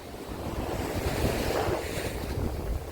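Waves at the Porbandar shore rush in a continuous low roar mixed with heavy wind buffeting the microphone, loud and unbroken.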